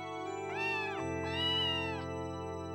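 A cat meows twice in a Dreamcast dating game, two clear tonal synthesized-sounding calls over a steady bright chime-like background tone.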